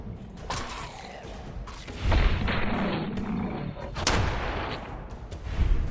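Gunfire in the video game Fallout 4, a few heavy booming shots with a rumbling tail, loud and close, one near the middle and more toward the end.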